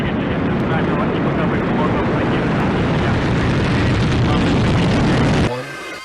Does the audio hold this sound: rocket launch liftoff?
yes